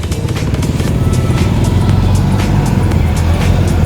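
Light early-morning street traffic in Iloilo City near the La Paz market, with a steady, loud wash of car and motorcycle engines rolling past nearby and continuous road rumble with no pauses.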